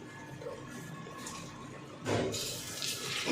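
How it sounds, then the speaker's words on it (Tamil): Heated water is poured into a pot of chicken biryani, with a steady splashing pour starting partway through after a quieter stretch of low kitchen noise. "நான் தண்ணியை சூடு பண்ணி தான் வச்சுருக்கேன்."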